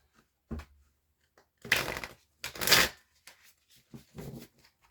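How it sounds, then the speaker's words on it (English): Shuffling a new, stiff deck of playing cards, heard as two close riffle bursts with crisp flutter, framed by lighter taps and a final shorter riffle, all without talk. "Let's just give this a good shuffle and we'll see what the storyline is."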